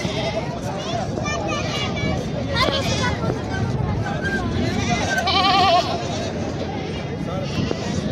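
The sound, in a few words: desi goat bleating at a goat market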